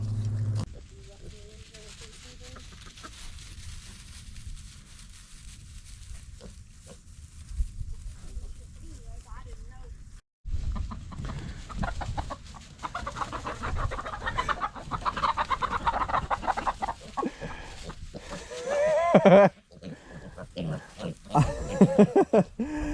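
Chickens cluck and squawk in a farmyard as young pigs chase them, while people talk over them, with grunting and scuffling animals and bursts of louder activity.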